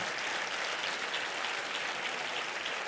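A church congregation claps in praise to God during a sermon, a steady wash of many hands applauding at once, continuous and fairly loud with no talking.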